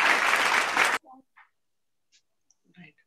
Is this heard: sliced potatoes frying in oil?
no